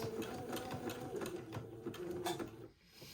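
A sewing machine runs a steady zigzag stitch around the armhole of a batiste diaper shirt, its close, even mechanical whir pulsing continuously before dropping off near the end.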